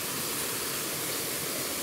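Cold, rust-tinged water pours at a waterfall, running out from under rocks as a steady broadband rush with no breaks and no voices.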